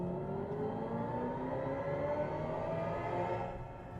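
Simulated gasoline-engine ignition and idle from a 2025 Hyundai Ioniq 5 N electric car, mimicking an Elantra N: a steady, droning engine-like hum with a faint rising tone, heard up close and alone, easing off at the very end.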